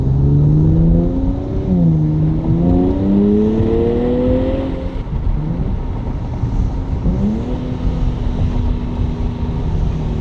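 Nissan Z engine blipping through repeated downshifts, revs sweeping up and down in loud rising and falling surges with steady wind rush, close and continuous, no talking.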